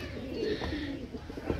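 Highflyer pigeons coo softly in low, throaty murmurs, a few overlapping calls close by with faint background bustle.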